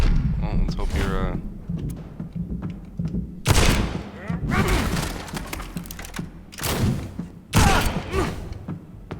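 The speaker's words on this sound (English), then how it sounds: "I'm gonna use all of these bullets on you." Bursts of gunfire from the video game Vampyr crack out in several loud volleys among thuds and game noise, with a voice talking over parts of it.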